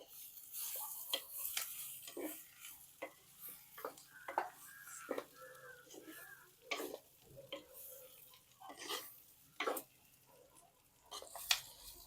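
Fish intestines sauté with onions in a pan, giving quiet, intermittent sizzling crackles and soft scraping stirs with occasional sharp clicks of a utensil against the pan, close up and faint.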